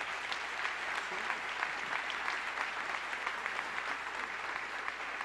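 A church congregation breaks into dense, sustained applause, a steady wash of many hands clapping at moderate distance with no break for the whole stretch.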